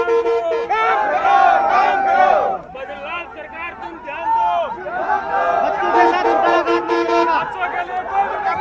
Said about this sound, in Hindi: अभ्यर्थी जो है मुर्दाबाद के नारे लगा रहे हैं, होश में आओ के नारे लगा रहे हैं